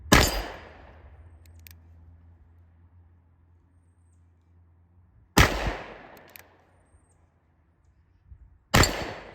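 Three loud gunshots from a Pietta Great Western II revolver firing light .38 rounds, spaced several seconds apart outdoors, each a sharp crack with a long fading tail.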